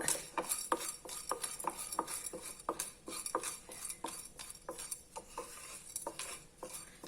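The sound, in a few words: stirring urad dal roasting in oil in a pan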